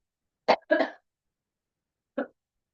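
Two quick coughs close together from someone with a sore throat, then a single softer cough after a pause, in an otherwise silent room.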